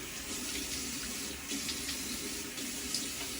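Tap water runs steadily into a bathroom sink as a face is rinsed, with soft splashing over a constant close hiss and no talking.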